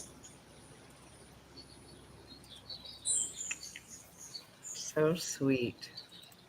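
A pet bird chirps in a few faint, high, scattered tweets against a steady low background hum, with a quiet voice speaking briefly near the end.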